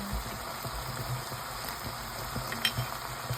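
Ground pork sizzles steadily in a hot pan, a close, continuous crackling fry with faint stirring scrapes and no talking.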